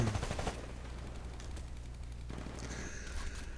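Gunfire in the Titanfall video game: an opening burst of rapid shots followed by quieter game ambience and a few distant effects, with no talk.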